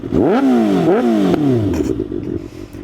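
A 300cc motorcycle with an SC Project slip-on exhaust starts cold and blips its throttle twice. The revs rise and fall loudly up close, then settle into a rumbling idle.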